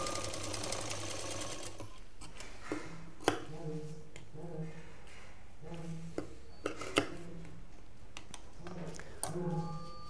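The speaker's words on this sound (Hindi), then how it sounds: "इन दोनों को इस तरह से सिलने के बाद अब ये जो सिलाई हमने की है इस पर हम पाइपिंग कवर कर देंगे।" A sewing machine stitches the side seams of a cloth shopping bag. A fast, even mechanical chatter comes in short runs with pauses between them, and faint clicks and handling sounds sit underneath.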